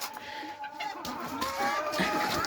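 Chickens and small chicks clucking and peeping inside a coop, a steady mix of close chirps and soft clucks with continuous farmyard bustle throughout.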